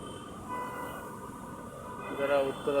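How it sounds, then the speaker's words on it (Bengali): A Dhaka metro rail train on the Uttara–Motijheel line approaches. Its low rumble swells gradually over a street background with murmuring voices. "এই যে মেট্রো রেল চলে আসছে"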